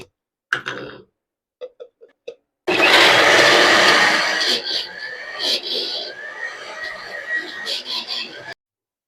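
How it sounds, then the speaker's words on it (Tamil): Mixer grinder blending jackfruit, a few short clicks and taps first, then a loud sustained motor whir that starts abruptly, wavers and pulses in intensity, and cuts off. "அதுக்கப்புறம் இந்த பலாப்பழத்தையும் இந்த வானல் காயறதுக்குள்ளே இதில் ஆட் பண்ணி அரைச்சிடலாம்."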